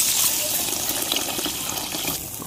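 Water pours from a vessel onto cut potatoes in a cooking pan for a masala curry, a continuous bright splashing and hissing pour that tapers off slightly toward the end.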